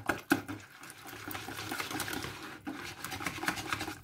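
A whisk stirs eggs into a cheesecake batter of soft farmer's cheese, making a faint, wet, sloshing swish with a few small taps against the bowl, close and quiet, with no voices.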